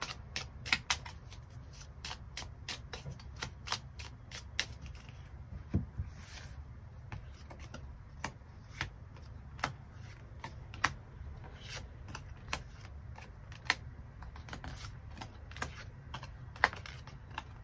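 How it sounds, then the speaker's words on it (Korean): Tarot cards being shuffled and handled give a run of soft, irregular close-up snaps and taps over a quiet background, with no voice. "추가 카드 뽑아보도록 하겠습니다"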